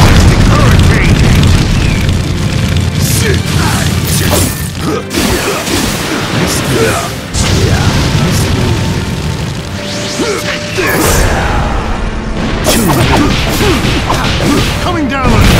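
Fire style jutsu blast from Naruto Ultimate Ninja Storm 4: a dense, loud roaring rush of booming, crashing energy that keeps going throughout, with sharp hits around the fifth, seventh and twelfth seconds, under dramatic voices and music.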